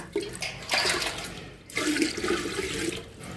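Tap water gushes into a clay pot, a steady rushing fill that briefly dips before resuming strongly, close and loud.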